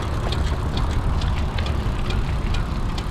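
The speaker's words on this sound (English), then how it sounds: "I can now really hear that brake disc rubbing though" A bent brake disc rotor rubs on a bicycle ridden down a muddy downhill trail, giving a steady, close scraping hiss with faint repeated ticks once per wheel turn under broad riding and wind noise.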